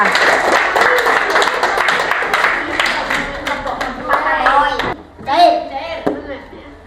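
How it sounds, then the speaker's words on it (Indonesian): Schoolchildren clapping in a classroom during a science lesson, a brisk burst of close hand claps mixed with children's voices that thins out and ends after a few seconds, followed by more chatter. "Tepuk tangan untuk kamu semua."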